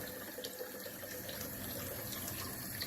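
Water runs steadily from a bathroom sink tap, a continuous soft splashing hiss close by as the basin fills to heat a shaving towel.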